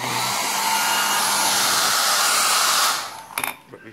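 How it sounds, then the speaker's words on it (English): A hair dryer plugged into an extension cord blows with a steady, loud whirring hiss for about three seconds, then switches off, leaving a few brief clicks and handling knocks. "So I have now here the hair dryer, and let me put it into this extension."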